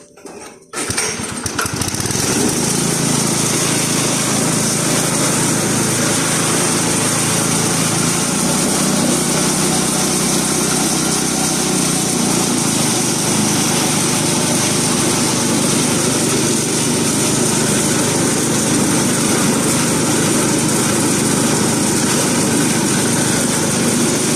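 A Mitsubishi engine on a high-pressure spray pump starts up and runs steadily, a loud, close, continuous buzzing drone with no talk over it.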